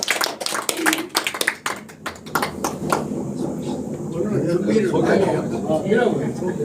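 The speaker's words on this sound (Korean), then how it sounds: "다시 한번 박수 한번 쳐주세요." A meeting audience claps in a burst of sharp, close hand claps for about three seconds, which then give way to people talking.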